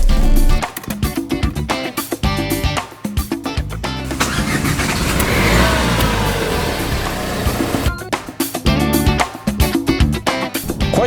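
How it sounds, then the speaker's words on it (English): A 2019 Renault Duster is heard on the move, with a steady rushing road noise and engine drone that rises and swells in the middle, framed by choppier passages at either end. "Quite a bit of road noise."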